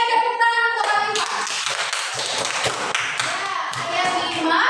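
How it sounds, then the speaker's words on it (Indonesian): A classroom of young pupils in Gorontalo claps together in a steady, crowded burst of hand claps lasting several seconds, with faint voices mixed in as the applause carries on. "Ya, jadi berikan tepuk tangan untuk Alifah."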